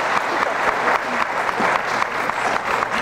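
A studio audience at a high school quiz show claps for the team, a dense, even burst of applause lasting a few seconds with no talk over it.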